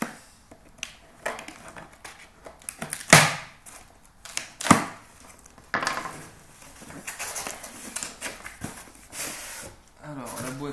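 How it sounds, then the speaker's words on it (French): A UPS cardboard shipping box holding a new iPad is opened by hand, with scattered sharp cracks, scrapes and rustles of cardboard, several loud snaps among quieter handling noises. "Donc là, on procède à l'ouverture du carton UPS."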